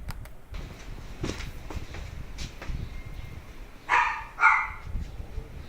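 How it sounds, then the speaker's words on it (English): A dog barks twice in quick succession, fairly loud against a steady low background rumble, with no voices in between. "That's Sherman's dog."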